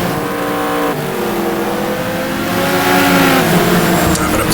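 Race car engine in the GTR2 racing game revving hard at full throttle, loud and continuous, with the pitch climbing steadily and a brief dip near one second, like a gear change.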